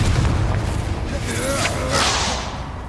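A Confringo fire spell in Hogwarts Legacy: a rushing whoosh swells into a deep, booming blast, with a bright burst near the end before it fades, loud and close.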